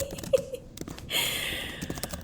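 Quiet tapping on a computer keyboard in an indoor room, with scattered soft keystrokes in an irregular rhythm and a faint hiss in the background.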